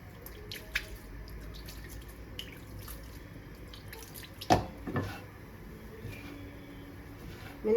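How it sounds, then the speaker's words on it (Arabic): Water trickles and drips faintly into Moroccan couscous as it is being prepared, with quiet splashes and a couple of louder pours over a soft background hiss. "وانتي كتزيدي شويه الماء"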